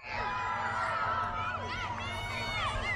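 Schoolchildren cheer and shout outside David Lubin Elementary School in Sacramento as a police-escorted Batmobile drives past, a dense, continuous wash of young voices with rising whoops over a steady traffic hum.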